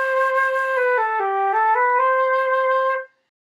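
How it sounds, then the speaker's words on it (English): An orchestral flute plays a short melodic phrase of clear, sustained tones that step down and back up, solo and close, ending in silence. "This is an orchestral flute, which you probably recognise, and sounds like this."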